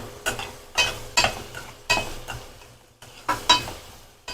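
Garlic thokku is stirred in plenty of sesame oil in a pan: a spoon scrapes the pan in a rhythmic series of about seven or eight close strokes, with a soft bubbling sizzle between them.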